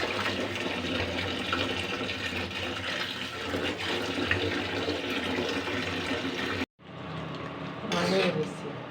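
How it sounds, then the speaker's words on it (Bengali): Jackfruit peels being washed in water, with a steady loud rush of running water and sloshing for most of the stretch, a brief cutoff near the end, then more splashing. "প্রথমে খোসাগুলো ভালো করে 2-3 বার করে ধুয়ে নিতে হবে।"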